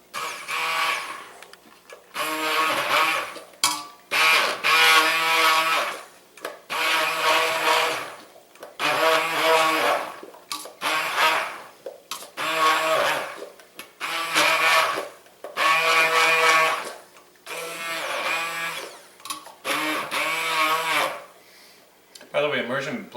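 An immersion blender purees broccoli cheese soup in repeated whirring bursts of a few seconds each, separated by short pauses, loud and close.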